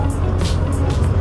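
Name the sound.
cars in heavy traffic jam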